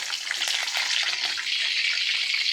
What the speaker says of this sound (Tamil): கருவேப்பிலை போட்டுக்கலாம்,